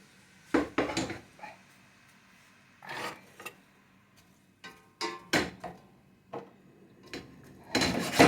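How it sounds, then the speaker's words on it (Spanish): Onion goes into a salted cod casserole with soybeans, tomato and capers, heard as scattered clatters and knocks of pans and utensils at close range, separate bumps with quiet gaps between them. "Acá se incorpora la cebolla."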